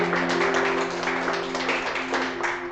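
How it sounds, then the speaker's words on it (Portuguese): A church congregation applauds in sustained, dense clapping that fills the whole stretch evenly, with a steady tonal hum from a keyboard or sound system held underneath and a faint voice mixed in. "Você pode aplaudir o Senhor Jesus."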